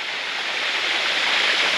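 A short burst of the roaring Dajianshan waterfall in Xizhi, several storeys tall on a mountain trail: a close, steady hiss and rush of cascading water with faint fluctuations and no speech.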